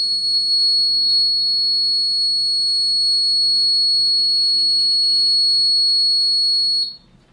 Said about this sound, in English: The buzzer goes on for 5 seconds.